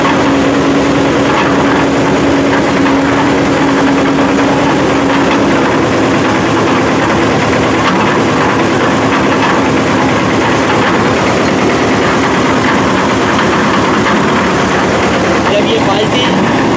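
A concrete mixer's engine runs steadily with a low mechanical drone while its bucket lift moves up and down, a faint tonal hum over the first few seconds, and voices talk over it throughout.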